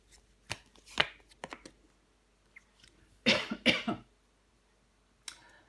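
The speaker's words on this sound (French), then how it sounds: "qu'est-ce que je tousse? C'est l'horreur." A few sharp coughs, first scattered short bursts, then a louder double cough, and a final brief one after a pause, close to the microphone.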